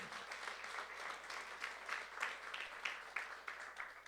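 Church youth congregation clapping together during a sermon, a soft, fairly distant rhythmic wash of hand claps with regular beats.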